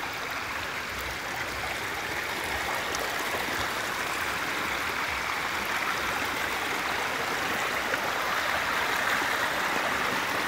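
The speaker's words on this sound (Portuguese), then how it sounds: "Sinta só o barulho das águas." A creek rushes steadily and loudly close by, a continuous broadband wash of flowing water with no break across the whole stretch.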